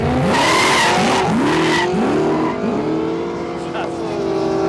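A supercharged, carbureted drag car on a no-prep airstrip revs hard and loud in rising and falling bursts of engine roar with squealing tires, close by, then settles into a lower engine tone.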